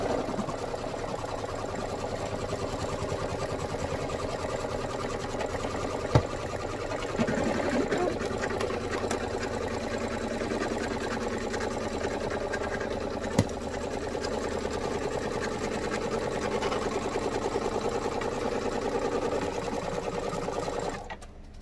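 An embroidery machine stitches the pocket piece of a vertical tote bag, humming in a steady, continuous mechanical whir with a couple of brief clicks, close and alone without talk.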